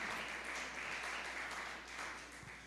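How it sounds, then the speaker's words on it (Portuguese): Faint, steady applause from a church congregation fills the space, continuous clapping that slowly fades toward the end. "Se assente, você que pode, aplaudindo a Jesus pela sua maravilhosa palavra."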